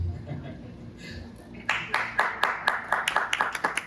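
Scattered hand claps from a church congregation, starting after a stretch of murmuring voices and settling into a fairly steady rhythm of individual, moderately close claps.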